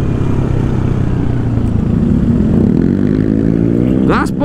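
Motorcycles running at full throttle at night on the Wanayasa–Purwakarta road, a loud continuous engine roar with a rising pitch sweep as one passes close near the end.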